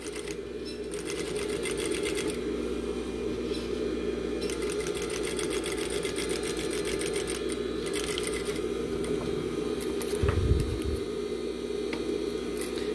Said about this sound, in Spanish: Esa costura de carga la vamos a hacer también con el mismo prensatelas.